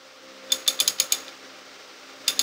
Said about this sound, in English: ratchet, and just gonna kind of tighten it up